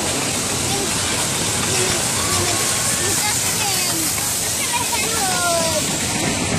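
Water rushing and splashing at a water park ride at Bon Bon Land, a loud continuous roar with voices talking over it throughout.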